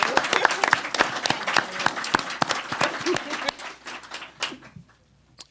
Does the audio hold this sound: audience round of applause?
yes